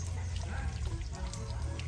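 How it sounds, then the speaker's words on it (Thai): Water splashed and poured over a child during outdoor bathing, a steady wet wash of splashing and trickling water that runs continuously without pauses. "พี่ฟิล์มสาดน้ำให้เร็ว"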